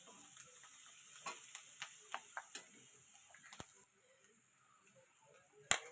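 Jackfruit seed paste and shrimp fry in a pan with a faint, thin sizzle, dotted by scattered sharp clicks of a utensil, easing quieter midway before one loud knock at the end.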